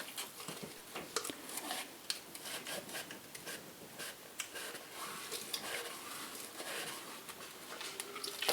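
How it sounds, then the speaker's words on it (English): A two-sided Scrub Daddy sponge scrubs a surface in a soft, steady rubbing rasp, close up and quiet, with small irregular scratchy accents. "this is another of those Scrub Daddy sponges. I do like these because they have the two different sides"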